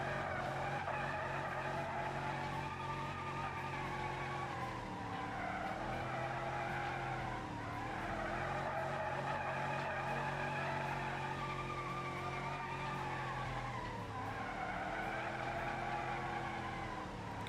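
Drifting cars in a racing game with modded tyres squeal in long, continuous skids over a droning engine, the pitch sweeping down and back up several times as the slides change.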